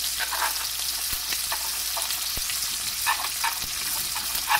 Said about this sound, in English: I'm going to scrape this off because I want this